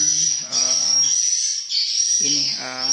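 A steady high-pitched sound-check test tone rings continuously from a PA amplifier loudspeaker, with a voice speaking in short bursts underneath.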